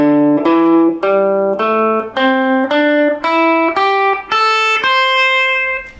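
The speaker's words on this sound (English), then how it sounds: "So today I'm going to show you what's called the blues scale." Blues scale on electric guitar, played one note at a time in a rising run of about ten plucked notes, each ringing briefly, close and fairly loud with no talking.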